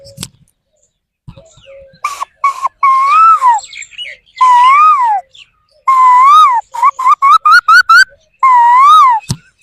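A voice imitates a cuckoo (koel) call as a series of loud, close, whistle-like rising and falling notes, grouped in short bursts with pauses between them and no other sound.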